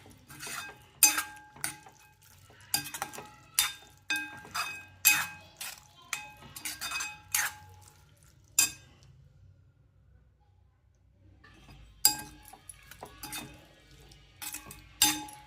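Palak chana dal, spinach with split chickpeas, is stirred in a metal pot: a spoon clinks steadily against the sides in a quick rhythm, pauses for a couple of seconds, then resumes, close and fairly quiet.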